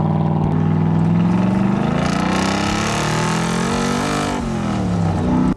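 A loud car exhaust drones and revs, its pitch climbing, dipping and climbing again, close up and continuous, the exhaust exiting right beside the driver's ear.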